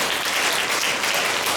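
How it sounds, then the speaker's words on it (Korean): Steady, loud applause from a book-concert audience welcoming guests to the stage, continuous clapping that holds at an even level throughout. "박수로 환영해 주시기 바랍니다."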